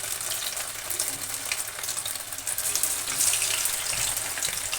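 Fish pieces coated in cornflour masala frying in hot oil over a medium flame, a steady close sizzle and crackle that holds for the whole stretch and swells slightly near the end, with no talking.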